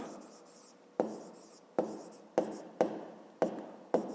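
Pen or pencil writing by hand on paper while noting fish lengths for a fifth-grade maths exercise, heard as close, distinct scratchy strokes, each starting sharply and fading, about six in a row.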